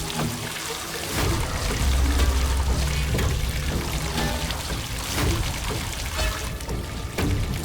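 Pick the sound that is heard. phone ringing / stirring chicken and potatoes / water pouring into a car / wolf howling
water pouring into a car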